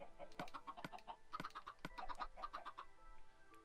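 Blocky game chickens from Minecraft clucking in repeated short bursts, a steady run of quiet clucks over soft background noise.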